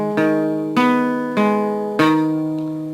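Guitar chord from a song, picked one string at a time: four clear plucked notes roughly every 0.6 seconds, each ringing and overlapping into the next. Close and clean, with no voice over it.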